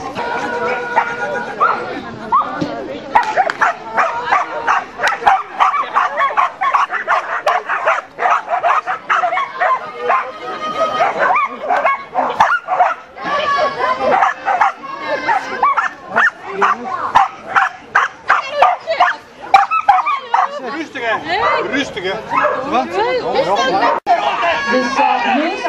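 Border Collies at a reunion gathering bark and yip almost nonstop, loud and close, with sharp overlapping yelps and whines, while people chatter and someone speaks Dutch over a loudspeaker-style commentary.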